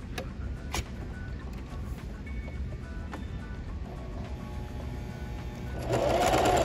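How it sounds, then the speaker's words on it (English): A sewing machine stitching a second line along a torn, frayed seam for repair, a steady close mechanical whir that grows louder and busier in the final second; no voices. "run it through one more time, about 1/8 of an inch over from my first line"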